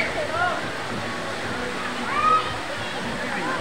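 Water pours steadily at Balite Falls in Amadeo, a continuous rushing wash that swells briefly midway, with faint voices in the background.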